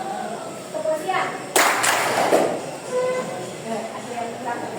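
Classroom pupils clap together in a call-and-response clapping game, with a short burst of claps in the middle amid a teacher's voice and children's chatter.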